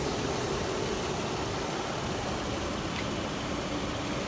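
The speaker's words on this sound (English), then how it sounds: "My phone does pick up small engine and valve train noise" A 2008 Toyota 4Runner SR5 4x4 engine idles steadily up close, a continuous even rumble with light ticking from the valve train, with no voices.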